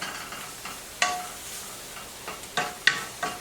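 Home cooking with stirring and sizzling: a low, soft sizzle underneath, broken by a few sharp utensil clinks against the pan, scattered irregularly and close by.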